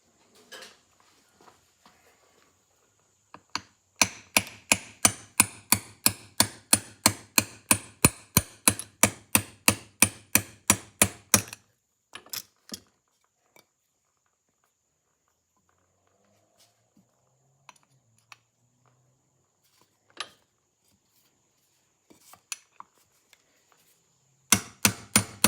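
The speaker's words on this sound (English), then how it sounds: "we're going to take the little brass rod with a hole in it, and we're going to beat it with a hammer" Steady rapid hammer blows strike a small brass rod with a hole in it, driving a gear off the gear train of an Edison Home phonograph; about two dozen sharp, close, loud strikes in a row, followed by a pause and a few more hits.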